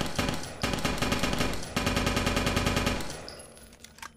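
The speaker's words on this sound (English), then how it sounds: "So that's the submachine gun, and now you have the assault rifle." Rapid automatic fire from an assault rifle in the sci-fi shooter Interstellar Marines, two loud sustained bursts of evenly spaced shots with a brief gap between them, ending in a few scattered clicks and small impacts.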